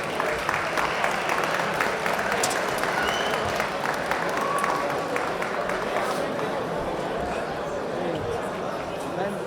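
A crowd applauds and cheers at a boxing event for two fighters, a dense steady roar of clapping and chatter lasting throughout, with voices mixed into the noise.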